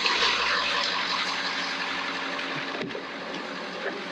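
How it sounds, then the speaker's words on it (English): A truck engine idling at a caravan camp in Australia while being checked for a fault, a steady, moderately loud rumble with a faint hiss and no speech. "And I can hear the truck running."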